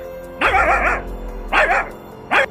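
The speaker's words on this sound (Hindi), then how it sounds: "जोर जोर से भौंकता है" A dog barks loudly three times, two longer barks followed by a short one, each clear and close with short quiet gaps between.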